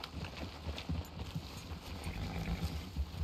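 A horse in Red Dead Redemption 2 gives a short neigh amid clopping hooves, with soft, moderately distant movement noise and no talk.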